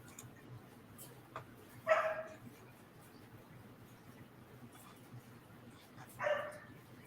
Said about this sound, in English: If you can hear my dog in the background, he only wants to act up while I'm online and stuff.